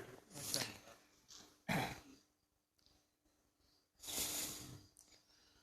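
A man coughs and clears his throat in bursts, three distinct harsh episodes separated by quieter pauses, close and clear with no speech over them.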